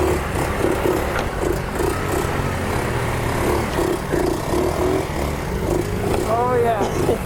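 Japanese motorcycle engine idling and revving loudly and steadily throughout, with a brief rising rev near the end and voices talking over it.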